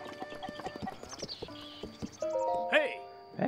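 Hooves clop unevenly at a horse stable in the video game The Legend of Zelda: Breath of the Wild, mixed with chirpy character voices and tonal game chatter.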